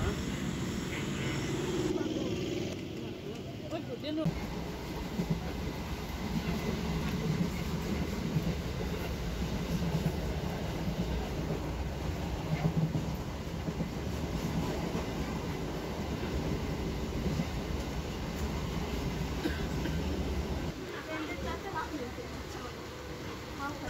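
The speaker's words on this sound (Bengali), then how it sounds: "আর ট্রেনও ঢুকে গেছে, তো আমরা উঠে যাবো সামনের দিকে।" A local train pulls into a railway platform on a Bangladesh–India border line toward Bangaon. Its steady rolling rumble and rattle fill the whole stretch, with the noise dipping briefly near the end.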